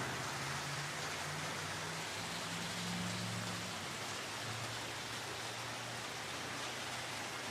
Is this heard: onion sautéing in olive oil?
no